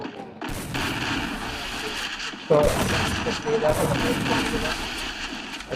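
Video game gunfire, with a rapid run of crackling shots and a sharper, louder blast partway through, plays close and dense while someone talks over it.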